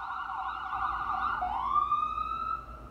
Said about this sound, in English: Just don't have the air to shout over a siren.